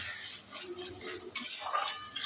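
Spoon scraping and clinking against a pan while spice masala is stirred and fried with a little water for a fish curry, with a burst of sizzling near the end; close and fairly loud, with no talk.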